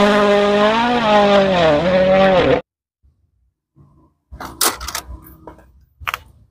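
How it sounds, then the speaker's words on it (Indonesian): Toy race car revving with a loud, steady, rising-and-falling engine whine for a couple of seconds, then cutting off, followed by scattered faint clicks and rustles. "Wow, lihat yang terakhir ada mobil balap."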